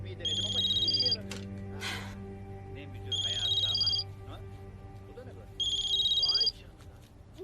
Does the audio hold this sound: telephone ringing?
yes